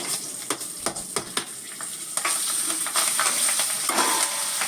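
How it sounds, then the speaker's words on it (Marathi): Green chillies fry in hot tempering oil with asafoetida and turmeric, a bright sizzle with several sharp crackles and stirring clicks at first, then a steady loud hiss. "हिरव्या मिरच्या एक दोन ती तीन मिरच्या मी घेतल्या या फोडणीमध्ये घालायच्या"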